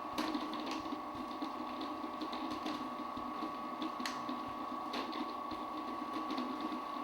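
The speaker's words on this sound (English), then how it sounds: "This will go to the mix while the machine is running." A kitchen food processor or mixer hums steadily as cold butter, sliced into half-inch pieces, is dropped in for flaky apple pie dough, with a constant motor drone and a few faint knocks from the added pieces.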